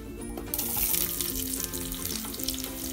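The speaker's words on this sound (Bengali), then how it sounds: "গরম মশলা থেকে গন্ধ উঠে এসেছে, এবার এতে আমি পেঁয়াজগুলো দিয়ে দেব।" Onions frying with garam masala in a hot pan for shahi paneer, a steady crackling sizzle that swells after the first half second and holds close and continuous, with tonal background music underneath.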